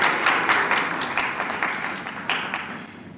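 Scattered applause from a dinner audience at a handover and awards dinner, a brief ripple of clapping that thins and fades, with a couple of louder claps near the end.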